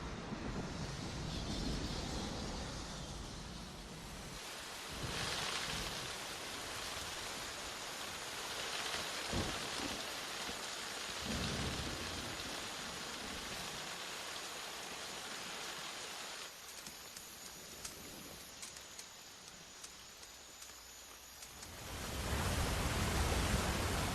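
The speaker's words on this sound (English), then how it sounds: "every afternoon, the rain descends" Steady heavy tropical rainforest rain pours down in a continuous broadband hiss, with no voices and only slight swells in intensity.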